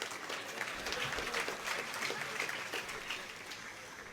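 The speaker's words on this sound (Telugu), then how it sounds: "మగవాళ్ళు చప్పట్లు కొట్టాలండి ఇంకా" Dense, steady applause from a large audience at a political rally in Undi constituency, a continuous crackling wash of many hands clapping with no pauses, fairly loud and close.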